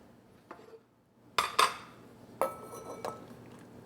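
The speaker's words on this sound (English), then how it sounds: "Take a big ladle of that soup." Ladle clanking against a metal pot while scooping borscht soup, a few sharp metallic clinks and scrapes with quiet gaps between them, close and otherwise silent.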